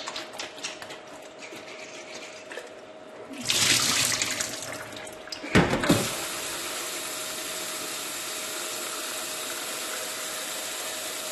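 A quiet watery background, then two loud bursts of water sloshing and shaking in a plastic bottle to rinse pickled cucumbers, followed by steady running water.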